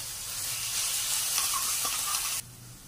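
Canned corn tuna and onion frying in a pan, a steady close sizzle with faint stirring scrapes, cut off abruptly near the end.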